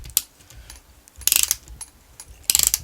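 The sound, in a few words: tool driving screws in a Losi 5ive T RC car build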